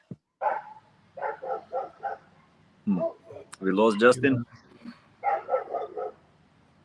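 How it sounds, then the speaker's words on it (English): Dogs bark at a house during a remote podcast call. Several short bursts of close, sharp barks repeat through the clip, and someone talks in between them. "dogs are at your house"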